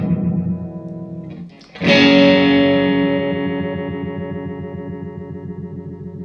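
An electric guitar chord through a Roger Mayer Voodoo Vibe pedal rings out with a swirling, wavering modulation effect, sustaining and slowly decaying after a short pause.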